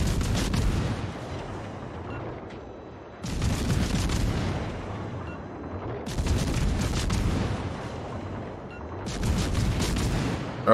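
Heavy naval gun salvos from the Minotaur cruiser firing AP shells in World of Warships Legends, four loud booming volleys arriving roughly every three seconds, each with a long rumbling tail.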